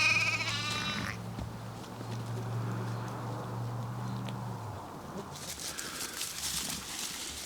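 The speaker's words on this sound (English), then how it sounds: "these are Katahdin sheep" Katahdin sheep bleating in a paddock, a loud cry at the start followed by a sustained low bleat, with quieter farm ambience and a brief rustle near the end; no one talks.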